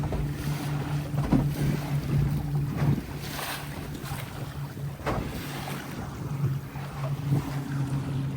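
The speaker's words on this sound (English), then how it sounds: "At home, you probably can hear the water moving faster." Water rushes and splashes steadily along a sailing dinghy's moving hull on Narragansett Bay, Rhode Island, with wind buffeting and a constant low hum throughout; no voices.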